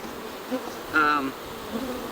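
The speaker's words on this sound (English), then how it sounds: "Right now the bees today are actually being very respectful." Honeybees buzz at a busy hive entrance, a brief louder hum swelling past near the middle and fading back into a steady, faint drone of many insects.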